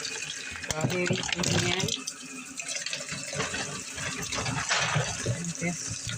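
An apple is washed under a running kitchen tap, water gushing and splashing steadily over the fruit, with a voice speaking over it.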